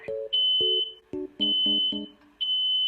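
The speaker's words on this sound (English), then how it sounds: "a gas stove with a very inconveniently placed smoke alarm right on top of it" A smoke alarm mounted above a gas stove chirps in short, loud electronic beeps, several in a row with brief gaps, alongside sharp high-pitched tones.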